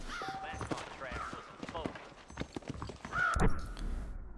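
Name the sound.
war horse hooves clip-clopping in Red Dead Redemption video game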